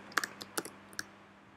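A computer keyboard being typed on, with a quick irregular run of about eight crisp, close key clicks and then quiet.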